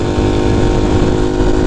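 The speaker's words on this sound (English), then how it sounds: "I don't know how loud the bike's going to be over my voice on this." A Honda C90 motorcycle engine drones loud and steady from up close while the bike is ridden, filling the whole moment without pause.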